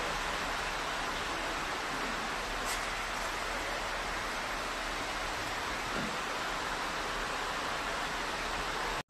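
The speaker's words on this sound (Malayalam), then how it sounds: "അപ്പോൾ നല്ല മഴ പെയ്യുന്നുണ്ട്" Heavy rain falls in a continuous, dense hiss that stays even and unbroken throughout, with no voices, and cuts off abruptly at the end.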